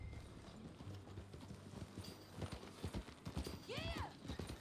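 Hoofbeats from horses in Red Dead Redemption 2 clip-clop in a steady walking rhythm, with a brief neigh near the end over faint ambient game sound.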